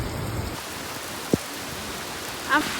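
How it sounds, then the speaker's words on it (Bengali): Steady hiss of rain falling, with a brief sharp tap partway through and a faint voice near the end. "ভালোই বৃষ্টি হচ্ছে"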